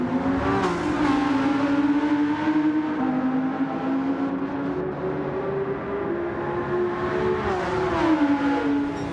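A race car engine roars in a Gran Turismo 7 VR drag race through Tokyo at night, a loud, continuous high-revving drone whose pitch climbs and dips with gear changes, with no talking.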